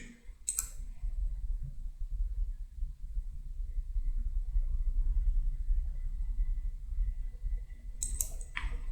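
A computer mouse clicks sharply a couple of times, once near the start and again near the end, over a low steady hum from inventory software work at a desk.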